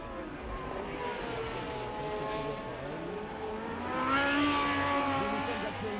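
Formula 1 cars at the 1975 French Grand Prix, heard as a steady, loud engine drone with a swelling pitch sweep midway as cars come into a braking zone, from a distance, with no talk.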